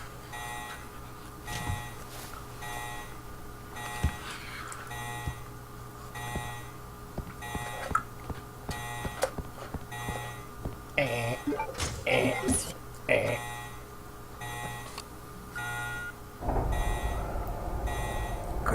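A repeating emergency alarm blares through a facility lockdown in Resident Evil Code Veronica X, pulsing steadily for the whole stretch under game noises, with a voice talking over it and a louder rumble surging near the end.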